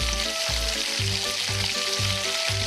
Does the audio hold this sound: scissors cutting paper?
no